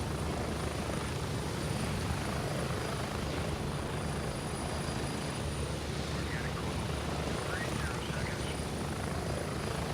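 A helicopter in a shooter video game, its rotor thumping in a continuous low drone at moderate level for the whole stretch, with no one talking.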